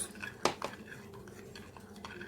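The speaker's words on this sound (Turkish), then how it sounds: "Karıştırıyoruz." A spoon scrapes and clinks against a bowl while stirring dough just after oil is added, one sharp knock followed by quieter soft scraping, close and fairly faint.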